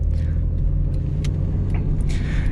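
A Holden VN Commodore wagon drives along with a steady, smooth low engine rumble from inside the car, with a few faint clicks and road noises passing over it.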